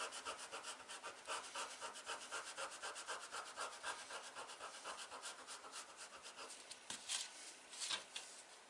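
Leather wallet pieces being sanded before gluing, a steady rhythm of quick rasping strokes, close and moderately quiet, with no one talking.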